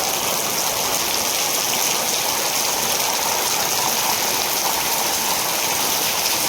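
Steady rushing water runs without a break during rainy weather, a broadband wash that stays loud and even throughout with no voices.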